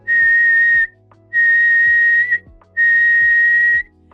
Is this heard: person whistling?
yes